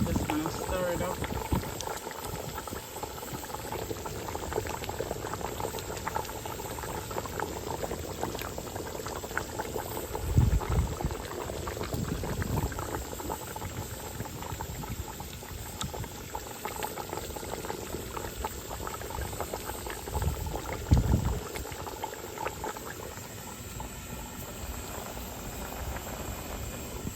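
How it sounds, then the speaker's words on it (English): A pot of Jamaican curry goat cooking outdoors boils with a steady, close bubbling and simmering hiss throughout, broken by a couple of brief louder knocks and stirring sounds. "The pot is bubbling."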